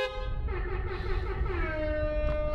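A custom horn on a Tesla Model S Plaid plays a sustained multi-tone melodic blare with shifting pitches, loud and close throughout, over a low rumble, with no talk.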